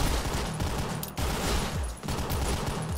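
Dense rapid gunfire from pistol and Uzi in the top-down shooter game OTXO, loud continuous bursts with brief breaks between volleys.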